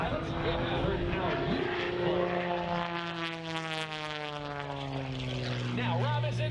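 An aerobatic propeller airplane performs at the 2021 Great State of Maine Airshow. Its engine drones loudly and its pitch slides down as it maneuvers, while an announcer talks over it.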